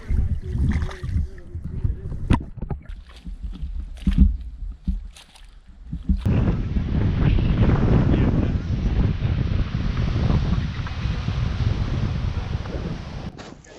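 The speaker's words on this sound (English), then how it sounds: "we had some pretty major winds, 15-mile-an-hour sustained and 20-25-mile-an-hour" Strong gusting wind, sustained around 15 mph with 20–25 mph gusts, buffets the microphone during a Suwannee River kayak trip, a loud steady roar of wind and water broken earlier by paddling knocks and splashes.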